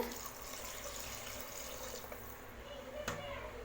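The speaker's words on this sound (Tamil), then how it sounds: "இப்போ இதில் நம்ம அளவு தண்ணி ஊற்றிடலாம்" A faint, steady trickle of water being poured over rice into a pressure cooker, continuous and quiet against a soft background hum.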